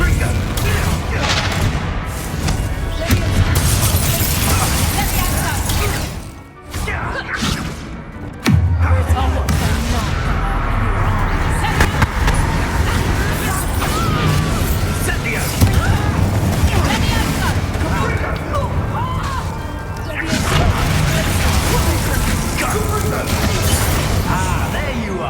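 Confringo explosive spells in Hogwarts Legacy, repeated booms and thuds in a dense, loud battle mix with a brief drop in the middle, with character voices speaking throughout.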